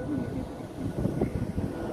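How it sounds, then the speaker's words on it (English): A jet airplane taking off over Beirut produces a steady low roar mixed with wind buffeting, heard from a distance at the street level. "The airplane is going. It's coming or going. Wow. It just take off."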